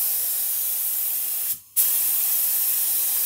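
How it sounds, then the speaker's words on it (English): A spray gun applies Rustoleum tractor paint in a steady, close, loud hiss, broken once by a short pause before the spray resumes. "First, we're gonna test out our spray pattern."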